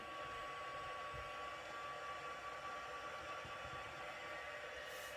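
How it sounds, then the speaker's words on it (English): A crafting heat tool preheating, blowing a steady, even whoosh of air throughout, close and moderately loud with no talking. "So I'm preheating my heat tool just a little bit."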